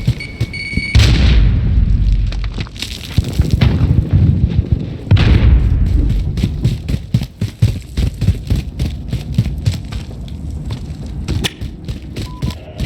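Heavy booms and blasts from a Call of Duty Modern Warfare battle, with a big grenade-like explosion near the start and another mid-clip, followed by rapid bursts of gunfire crackling to the end.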